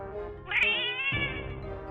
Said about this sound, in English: Oh, a kitty!